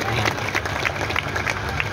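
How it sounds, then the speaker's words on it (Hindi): Audience clapping at a gathering for a child's naming blessing with Swami Ramdev: steady, dense applause from a crowd throughout, with murmuring voices mixed in. "अरे ताली तो जोर से बजाओ"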